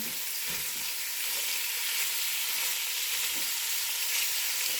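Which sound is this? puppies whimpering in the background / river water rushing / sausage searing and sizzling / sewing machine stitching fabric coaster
sausage searing and sizzling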